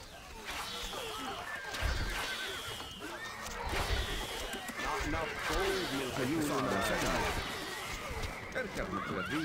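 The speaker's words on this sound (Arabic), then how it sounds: "الحصان سريع." A horse whinnies repeatedly amid game music and busy effects in the video game Stronghold: Crusader, with hoofbeats suggesting galloping, while a voice talks over it.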